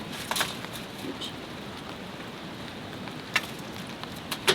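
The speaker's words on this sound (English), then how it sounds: "Can you hear the rain? I don't know if you can. I hope so, because it sounds great." Steady rain patters on a car tent during a camping trip with a dog, a close, even hiss with a few louder drops near the end and no voices.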